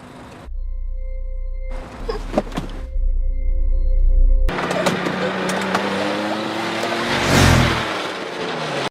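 A motorcycle speeds along a sidewalk, its engine surging loud as it races close past, then revving and fading, after some quieter moments.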